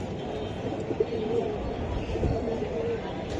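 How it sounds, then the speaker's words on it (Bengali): Silver Giribaz pigeons kept as pairs at a pigeon market, cooing in low, throaty bursts, one around the first second and another later, over a constant murmur of other birds. "মাত্র 6000 টাকা সিলভার কবুতর পেয়ার"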